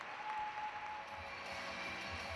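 Crowd applause fills a figure skating gala arena at the Granada Igloo during the Winter Universiade, a steady broad clapping that holds at an even level for the whole stretch without any voices on top.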